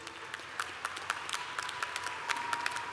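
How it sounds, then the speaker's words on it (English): A commencement audience gives a graduate a round of applause, with scattered, distant clapping spread through a large hall, faint and steady for a few seconds. "Applause for George,"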